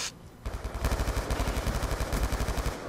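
Rapid automatic gunfire from a weapon in Black Ops 2, a fast, loud, steady burst of shots running almost continuously after a brief pause at the start.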